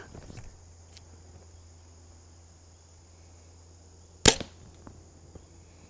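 A Mathews Arc compound bow fires a single short, sharp release snap near the end, in a quiet outdoor setting with crickets chirping steadily in the background.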